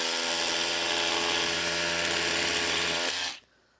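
An SDS drill bores into concrete, running continuously at high speed with a loud, steady whine and grinding, then stops abruptly near the end.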